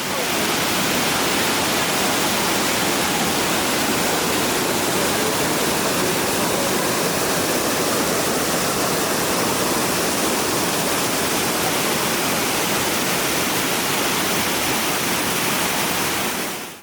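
Veliki Slap, the 78-metre Great Waterfall at Plitvice Lakes, Croatia, gives a loud, unbroken roar of falling water that fills the whole stretch evenly at close range, with no voices.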